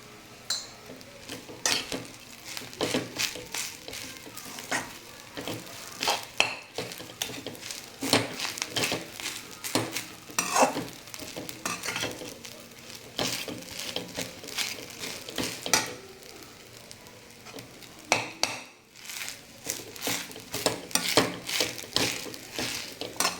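Food frying in a pan while a utensil stirs it, with steady clinks and scrapes of metal against the pan over a soft sizzle, close up and continuous.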